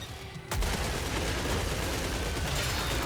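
Sustained automatic gunfire in the video game Killing Floor 3 on Hell on Earth difficulty, a dense continuous fusillade bursting in loudly after a brief quieter moment and roaring without a break.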